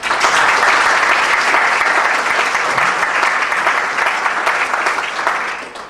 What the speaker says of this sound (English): So please, another round of applause for them.